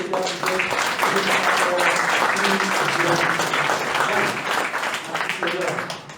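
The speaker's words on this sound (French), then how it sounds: "Applaudissez très très fort les" A crowd at an anti-slavery gathering applauds loudly and steadily for several seconds while a voice talks over the clapping, which tapers off toward the end.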